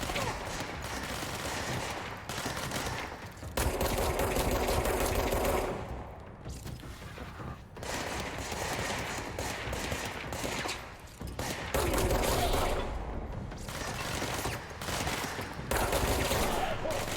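Rapid bursts of gunfire from the video game Control come in repeated volleys separated by short lulls, loud and dense across most of the stretch, with scattered game sounds between bursts.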